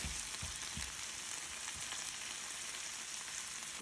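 Vegetables, including zucchini, tomato and bell pepper, sauté in a hot pan with a steady, close crackling sizzle that keeps going without a break and has no talking over it.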